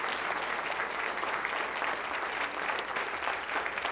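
Sustained, dense applause from a luncheon audience honoring school board members at a county address, steady and even throughout, with no talk over it.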